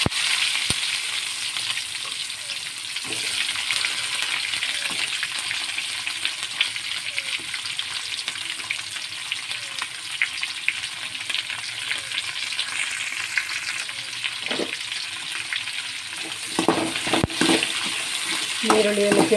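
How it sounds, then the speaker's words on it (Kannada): Onions frying in hot oil with mustard seeds, a continuous close crackling sizzle with occasional stirring scrapes and clatters, growing busier toward the end. "ಈಗ ನೀರುಳ್ಳಿ ಹಾಕ್ಕೊಳ್ತೇನೆ"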